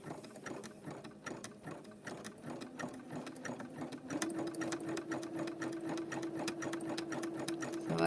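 Sewing machine zigzag stitching rope into a bowl, a steady rapid mechanical clatter at close range that speeds up and holds an even whirring tone through the second half.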